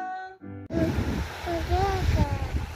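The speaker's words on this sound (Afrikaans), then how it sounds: "Water, that's water." Waves and surf wash and rush in the wind at Walvis after a short burst of music cuts off, with voices faintly heard over the water.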